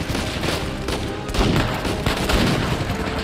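Loud, rapid gunfire fills Uncharted 4 on PS5, with dense overlapping shots and booms cracking almost continuously, like a firefight in full swing.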